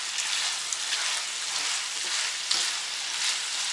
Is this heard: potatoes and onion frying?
yes